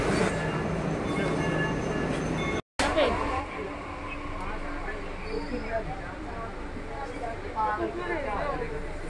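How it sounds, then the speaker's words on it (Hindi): Train at a New Delhi metro station, a steady rumble and rolling clatter with faint squealing tones over a busy crowd murmur, briefly cut out partway through. "फाइनली हम पहुंच गए हैं मेट्रो स्टेशन"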